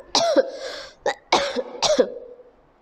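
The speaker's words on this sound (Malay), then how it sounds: "Sorry, saya batuk." A person coughs several times close to the microphone, a burst of harsh coughs with short pauses, then it trails off.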